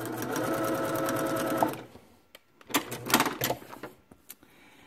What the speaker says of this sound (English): Put it in the machine, 1/4 inch seam allowance.